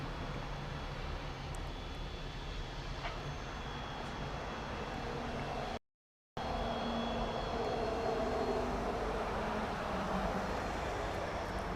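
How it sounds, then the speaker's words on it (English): A small trijet airliner taxiing to a parking stand at Grand Cayman airport gives a steady, broad jet-engine roar with a low rumble, continuous and fairly distant, with no talk. "Baby trijet. Gonna park next to that other baby trijet."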